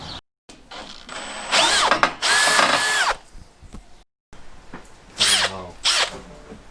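A power drill whirs in several bursts while drilling holes for galvanised water tank holders on a Toyota Coaster bus conversion, its motor revving up and winding down between short pauses, close by and loud.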